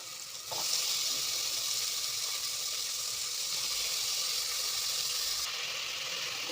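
Washed vegetables sizzle steadily in a hot pan with softened tomato for sambar rice, a loud close hiss that jumps up as they hit the oil and stays constant, with no voices.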